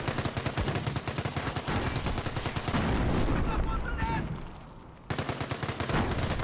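Rapid machine-gun and rifle fire rattles around a base in the Company of Heroes WWII strategy game, with loud continuous bursts, a heavier rumbling blast midway, a short lull, and then more sustained shooting.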